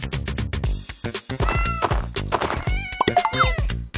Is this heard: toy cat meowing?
yes